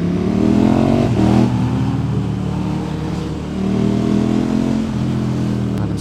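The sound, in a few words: motorcycle engine revving in London traffic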